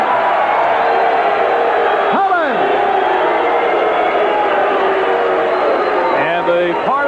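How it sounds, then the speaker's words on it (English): A partisan boxing crowd in Philadelphia reacting to a unanimous decision, a loud, dense roar of mixed cheers and shouts that swells throughout, with a few rising whoops standing out. "And the partisan Philadelphia crowd split in their reaction."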